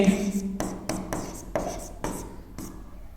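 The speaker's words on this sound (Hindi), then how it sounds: "सीधा परिभाषा में लिखता हूं" Chalk writes on a board in a classroom, a run of short scratchy strokes with brief pauses between them, close and clear with no talk over it.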